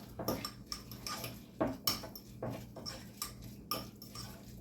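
Chopped ingredients being stirred together in a bowl, with irregular scraping and clinking strokes that come close and fairly clearly over a low background hum, with no one talking.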